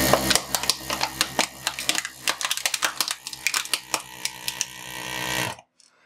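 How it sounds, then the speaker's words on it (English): Two 12V vacuum pumps crush a 50 cl plastic bottle. A steady mechanical hum runs under dense, irregular cracks and crinkles from the collapsing plastic, then everything cuts off abruptly near the end. "we're going to time it from me switching the power on to when this bottle is fully crushed"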